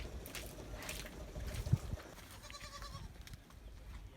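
Goats bleating in a farm pen alongside buffalo and cows, with a few short cries standing out over a steady low rumble of background noise.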